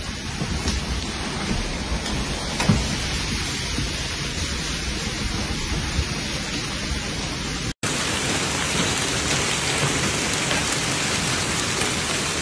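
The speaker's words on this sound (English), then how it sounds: "A violent storm front hit the Veneto region today, severely impacting the provinces of Treviso and Padua with heavy rain, hail, and strong gusts of wind." Heavy rain and hail pour down steadily during a violent storm front over the Veneto region of Italy, near the provinces of Treviso and Padua, a dense, continuous roar with a sharp break partway through and no voices.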